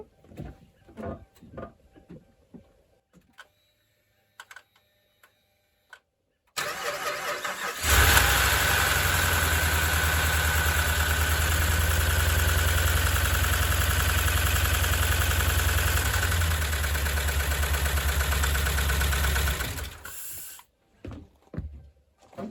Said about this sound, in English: Now I've run this engine on the stand, I know it runs, but I've never had exhaust on it, so I don't know how good it's going to sound.